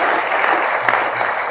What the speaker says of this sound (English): So give yourselves a big damn round of applause.